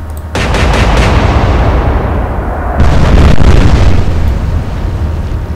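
A naval gunfire salvo from a warship in the Atlantic Fleet game, Battle of the Atlantic campaign: a loud, sustained rumbling roar of big guns that surges again partway through and rolls on to the end, with no voices.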